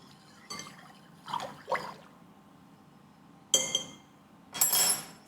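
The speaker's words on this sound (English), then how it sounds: "Give it a stir." Yeast, sugar and warm water stirred in a bowl, giving soft liquid swishes and a few light clinks of a utensil against the container in short separate bursts, fairly close and with no talking.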